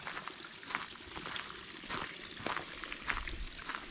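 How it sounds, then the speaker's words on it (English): Water running outdoors along a freshly weed-eaten yard bank, a steady close trickle and pouring wash with soft splashy bursts that carries on without pause, alone with no voices. "Hear that water running"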